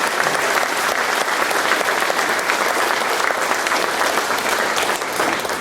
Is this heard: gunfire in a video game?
no